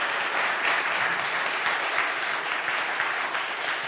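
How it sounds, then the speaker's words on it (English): An audience at a science lecture contest gives sustained, dense applause for the event's sponsors, loud and even throughout with no pauses and no voices. "So let's get a round of applause for our sponsors."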